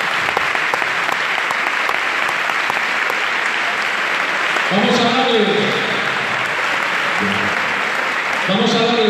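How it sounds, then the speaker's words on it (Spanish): A crowd applauds at a 25th-anniversary celebration in Avilés, Spain, broad steady clapping filling the whole stretch, with an announcer's voice breaking in over it midway and again near the end. "El último aplauso, por favor, para todos los que tenéis aquí delante"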